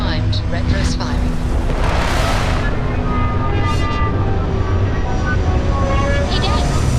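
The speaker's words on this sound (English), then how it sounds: "Landing struts primed. Retros firing." In Starfield, a spaceship fires its retro thrusters while landing, making a steady, loud, roaring rumble that fills the whole stretch. A voice speaks over it.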